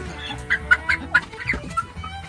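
Several short chicken clucks, close by and fairly loud, come in an uneven run over a low rumbling background.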